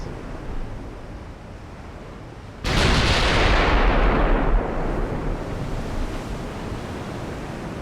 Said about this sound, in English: I'm pretty sure these guns just fired.